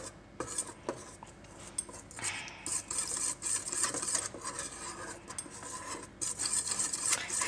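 Spoon scraping and clinking steadily against a bowl while milk and chocolate are stirred in circles for homemade hot chocolate, a continuous close rubbing swirl with no talk.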